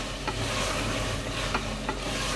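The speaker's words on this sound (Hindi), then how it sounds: "तब आलू डाल के भी इसकी अच्छे से बुनाई कर लें 2 से 3 मिनट तक तेज़ आंच पे।" On high heat, cubed potatoes fry with minced keema in a steady, dense sizzle, broken by a few light stirring scrapes.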